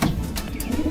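Racing pigeon returning to its loft after a 462-km derby race, with steady soft cooing and a few faint chirps close by over low background noise.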